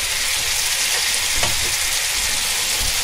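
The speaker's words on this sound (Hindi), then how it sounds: "सब मसाला इसमें डाल के अच्छे से पूरा सूखने सब भुनेंगे" Tawa gosht, half a kilo of meat with masala, fries loudly and steadily on a hot tawa, a dense continuous sizzle with stirring, close and alone without any talk.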